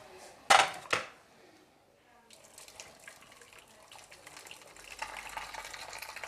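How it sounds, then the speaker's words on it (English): Boiling water poured slowly from a kettle over rinsed potatoes in a pan, starting with a sharp clank, then a soft rising trickle and splash that grows steadier and louder toward the end. "I'm going to cover them now with boiling water."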